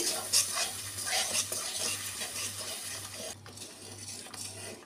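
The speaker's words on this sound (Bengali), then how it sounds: "এবার গুঁড়ো মশলা দিয়েও ভালো করে কষিয়ে নেব।" Jackfruit curry with ground spices being stir-fried in a pan, a steady close sizzle with repeated scraping stirs and light clinks of the utensil, and no voices.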